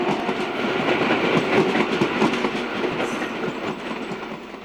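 SVT diesel express railcar, a Reichsbahn VT 18.16, pulling away to refuel, a loud steady rumble of engine and wheels with faint rhythmic clatter on the rails, close by and without voices.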